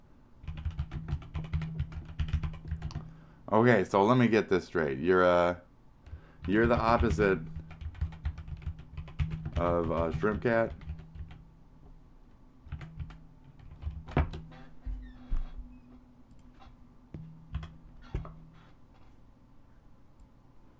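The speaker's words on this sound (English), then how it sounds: "I hate mechanical keyboards. I've determined that now." Clattering keystrokes on a mechanical keyboard during a live stream, faint, irregular bursts of clicks heard under and between a man's speech.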